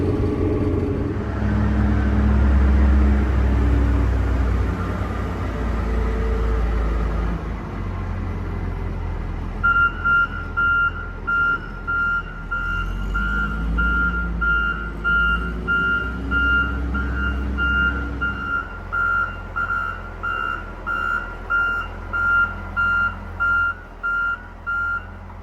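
A road grader rumbles heavily as it drives, then reverses toward a farm shed while its reversing alarm sounds loud, regular, evenly spaced beeps over the engine.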